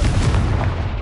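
In Hogwarts Legacy, the Confringo fire spell bursts as a loud, dense booming blast filling the whole second, heavy and rumbling like close artillery.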